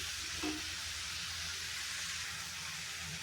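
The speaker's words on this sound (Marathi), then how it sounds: "मी थोडी मुगडाळ घेतलेली आहे स्वच्छ धुवून ती टाकून घेणार आहे आणि हे परतून घेणार आहे" Moong dal, washed, sautéing in a pan with fenugreek leaves for a winter methi bhaji, giving a steady, soft sizzle throughout with no talk.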